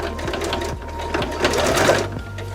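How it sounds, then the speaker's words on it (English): A sewing machine stitches and back tacks elastic onto a face mask cut from car cover fabric, a rapid mechanical needle chatter with rhythmic thumps, close and steady throughout with no talking. "And you're going to start stitching there and back tack again."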